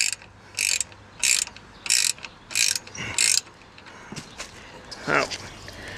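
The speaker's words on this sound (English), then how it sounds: "I got a wrench in back holding it. So I got it tightened." A 9/16 Harbor Freight ratcheting wrench tightens a bolt on the front bumper of a John Deere E110 lawn tractor, giving five regular bursts of close, sharp ratchet clicks, then a few quieter, scattered clicks and handling noises.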